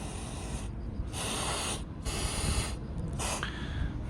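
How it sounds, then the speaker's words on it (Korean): Bursts of aerosol anti-rust rust-proofing chemical sprayed onto a trailer, four steady hissing sprays of about a second each with short pauses between, close and fairly loud. "녹 부식을 한방에 해결할 수 있는 방청 방음제라고 해야 되나? 이 약품을 좀 뿌려 놓고"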